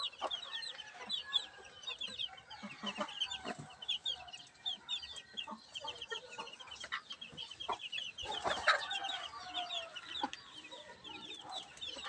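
Young hens, under a month old, kept in a rooftop coop on a house, cluck and chatter continuously at close range, with overlapping calls and the occasional louder squawk and no talking.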